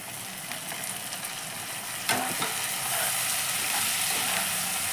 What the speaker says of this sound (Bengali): দেখো আমার পেঁয়াজটা একটু ভাজা ভাজা হয়ে গেছে